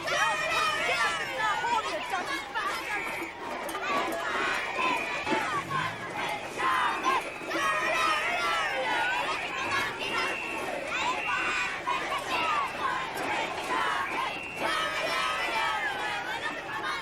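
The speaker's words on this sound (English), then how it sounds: "The usual crowd of women and children gathering." A crowd of women and children gathers, heard as a dense, busy wash of overlapping voices, calls and shouts that keeps going throughout, fairly close and steady in loudness.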